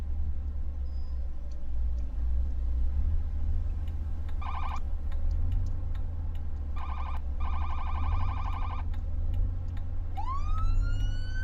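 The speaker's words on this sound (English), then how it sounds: "I did not pick the secondary siren to be a yelp or piercer. I picked it to be the bullhorn." Short bursts of an electronic police siren in a video game pulse in quick repeated blasts, followed by a rising wail at the end, over a steady low engine drone.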